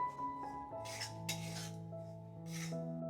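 Semolina for dudh puli is lightly roasted in a pan and stirred with a metal spoon, giving short raspy scraping strokes in bursts over a low steady hum, quiet and close, with no talk.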